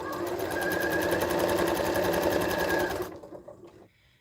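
Close and loud, a sewing machine stitches sweater quilt pieces in a fast, even mechanical rattle for about three seconds, then slows and stops, leaving a few faint handling clicks.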